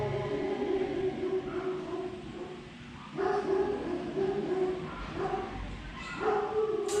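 Dogs bark in Mexico, and several bursts of yapping and whimpering come from nearby in a rough rhythm a few seconds apart, layered over a quieter steady background.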